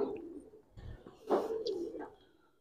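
A female red Aligarh pigeon coos softly nearby in a few low throaty bursts, joined by faint chirps, in otherwise quiet surroundings.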